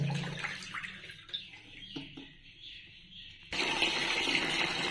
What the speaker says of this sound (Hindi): ये देखिए पानी आना चालू हो गया है